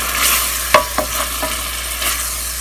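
Blended onion, garlic and ginger paste frying with cumin seeds in oil, a loud bright sizzle with a few spoon knocks and stirring scrapes, heard up close without talking.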